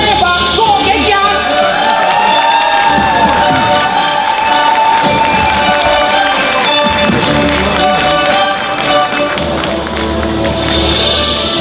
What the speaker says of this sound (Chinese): 我们用最热烈的掌声欢迎民进党副秘书长林非凡做演讲